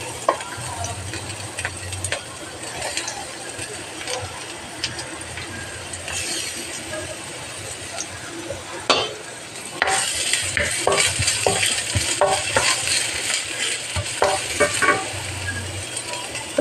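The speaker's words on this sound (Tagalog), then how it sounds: "Pag mainit na yung ating mantika guys, lalagay na natin yung sibuyas." Onions sizzle and fry in hot oil in a pan for paella, a steady crackling hiss with occasional stirring clinks and scrapes that grows louder partway through. No one speaks.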